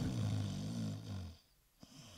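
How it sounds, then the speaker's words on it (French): A sleeping prison guard snores loudly and close, a long rumbling inhale that fades into a brief pause and a small snort. "Le gardien de la prison est en train de ronfler."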